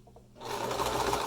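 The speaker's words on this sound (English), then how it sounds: "I don't know how well my sewing machine can handle so many layers." A sewing machine stitches through many layers of fabric for a 3D face mask, running slowly with a light needle rather than a heavy-duty one. A quiet start gives way to a steady, close mechanical whir.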